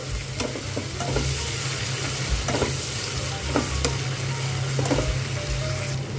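Ginger-garlic-chili paste and chopped coriander leaves fry in a pan, a constant loud sizzle punctuated by regular soft scraping strokes of stirring.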